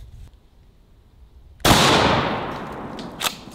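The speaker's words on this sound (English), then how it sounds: "the tannerite that's in the shotgun slug and basically makes it like an exploding shotgun round" A shotgun fires a tannerite-filled exploding slug: after near silence comes one sudden, very loud outdoor blast with a long rumbling decay, then a sharper smaller crack just before the end.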